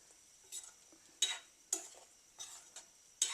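A spoon stirs drumstick vegetable curry with coconut milk in a pan, giving several separate soft scraping strokes over a quiet, faint simmer.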